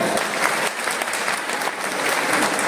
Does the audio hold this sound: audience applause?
yes